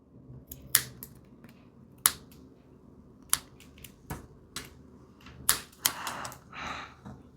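Scissors snipping crochet yarn, a series of sharp, isolated clicks spaced about a second apart, with a slightly longer rustling cut near the end; close and fairly quiet with no talk.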